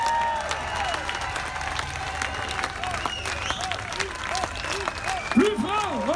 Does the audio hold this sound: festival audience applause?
yes